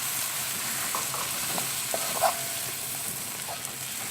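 Chopped tomato sizzles and fries softly in a pan while being stirred, with a few light scraping and clinking touches over a steady hiss.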